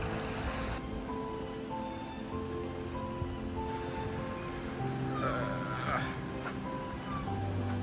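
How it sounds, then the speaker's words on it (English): A river flows beside a walking path near a waterfall, a steady rushing wash under a tonal hum, with a person speaking over it. "I love that you're just walking beside the river."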